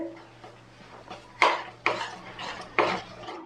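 A spoon scrapes and clanks against a pan while spices are stirred into raw mango chutney, with several distinct knocks spaced about half a second apart over a soft low hum.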